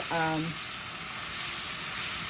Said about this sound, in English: See how it is sizzling and coming together